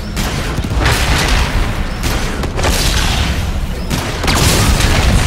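Anti-gravity gunner weapon fire in the shooter game Call of Duty: Infinite Warfare, heavy continuous booming bursts and blasts filling the whole stretch at close range with no pauses.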